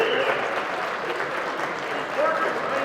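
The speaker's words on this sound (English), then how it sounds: "We gotta give a big round of applause for Bear." A crowd at a live dog auction applauds at close range, with a steady wash of clapping and voices talking over it throughout.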